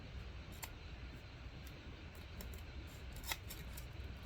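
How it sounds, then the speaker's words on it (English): Crescent Wiss CW10T 10-inch offset professional shears make a few tiny, quick snips in heavier-duty paper, cutting at the tip. The sharp clicks are faint and spaced apart over a steady low background, with no talking. "Make tiny little snips too."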